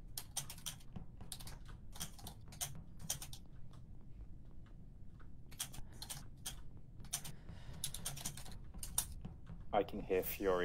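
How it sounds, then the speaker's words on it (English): Loud, clunky computer keyboard clatters in quick bursts of typing separated by short pauses, close to the microphone, with faint background voices. "I can hear furious keyboard tapping."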